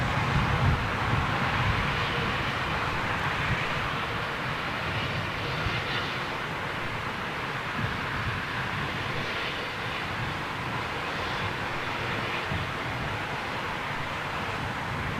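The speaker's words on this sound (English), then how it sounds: "Oh look, intersecting departure going out again." A jet airliner departing London Heathrow gives a steady, broad engine roar that holds at even loudness throughout, with no talking.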